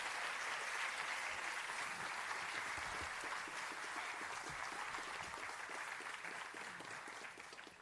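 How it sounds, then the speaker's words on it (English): A large crowd claps continuously and steadily, dense applause filling the room throughout, fading slightly near the end. "No, start clapping again."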